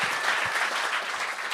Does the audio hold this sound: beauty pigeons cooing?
no